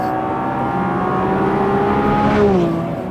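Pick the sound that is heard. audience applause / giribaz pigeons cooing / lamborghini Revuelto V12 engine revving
lamborghini Revuelto V12 engine revving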